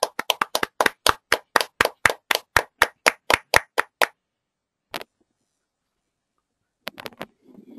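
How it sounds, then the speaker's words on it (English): A single pair of hands claps for a contest winner in an even, crisp rhythm of about twenty claps, breaks off, then adds one stray clap and a few scattered taps at the end. "Big round of applause for Abhishek Chaudhary."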